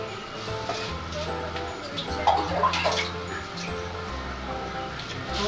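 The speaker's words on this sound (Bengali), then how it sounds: "আমি 1 লিটারের মতো জল দেবো।" About a litre of water poured into a wok on a gas stove: a steady splashing, gurgling pour, close and moderately loud, swelling briefly midway, with a low hum underneath.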